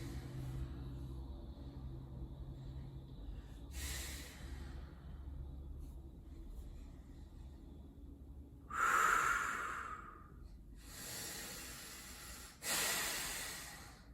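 Deep breaths during a held core exercise, with two or three long, loud breathy exhales standing out from a quiet room hum in the second half.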